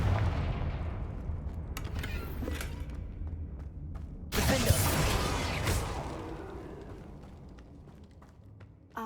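A Confringo fire spell explodes in Hogwarts Legacy, a loud burst with a crackling, rumbling tail fading over several seconds amid ambient game sound.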